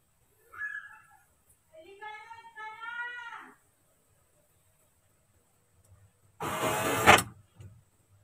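A Kia Pride power window motor runs during an installation, giving a short, loud whirring burst of under a second late in the clip, after brief voices and a quiet stretch.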